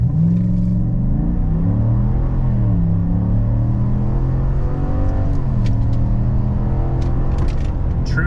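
A 2026 Chevrolet Silverado with the 6.2 V8 accelerates from idle to 60, a loud deep rumbling engine note rising and dropping through gear shifts, steady and close throughout.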